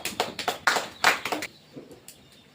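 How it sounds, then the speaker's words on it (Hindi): A few claps in a classroom as students applaud themselves, a short burst of sharp hand claps close by, then fading to quiet. "चलो ताली बजाओ अपने लिए"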